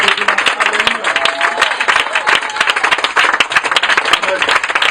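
A church congregation claps and cheers in praise of God, loud dense applause filling the room with a steady rapid patter, voices calling out over and through it.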